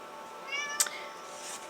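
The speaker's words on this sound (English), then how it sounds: "she's down here meowing" A cat meows once, a short faint cry near the middle, heard alone against a quiet indoor hum.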